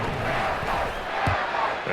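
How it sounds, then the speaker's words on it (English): A large video game stadium crowd at an American football game roars and applauds steadily, a dense wash of cheering and clapping that stays loud throughout. "How about some applause for the defense there?"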